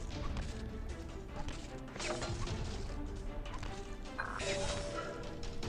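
A powerful explosion bursts in the Tower Conquest video game, a dense crashing blast over busy game music that keeps rolling with fresh impacts, loud and close throughout.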